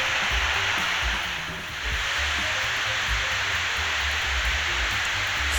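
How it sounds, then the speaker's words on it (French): Waterfall at the Cascades du Hérisson in the Jura, a steady loud roar of falling water filling the whole clip, continuous and close with no break. "Ça casse la tête à un moment donné à force d'entendre l'eau tomber"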